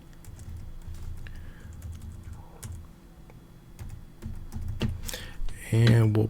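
A password typed on a computer keyboard during a WordPress login on a penetration-testing lab machine: a run of quick, close key clicks and taps, with a voice speaking briefly near the end.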